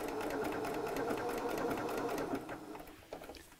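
A Butterick Signature EB6100 sewing machine stitching utility stitches at a quick, even needle rhythm, running steadily and close before slowing and stopping in short bursts near the end.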